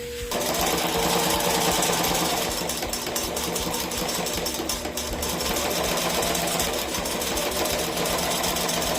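Sewing machine stitching cork fabric for a stem bag, a fast steady mechanical whirring and rattling close by that runs continuously without pause.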